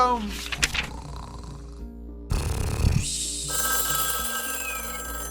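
A phone rings at night in a Minecraft game scene, a steady electronic ringtone layered over background music, followed by a burst of noise and a sustained high tone.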